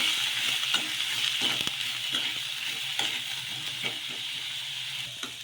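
Cabbage mixture softening in a hot pan, a steady low sizzle and hiss under soft rhythmic scrapes of a spoon stirring, close and quiet with no voices.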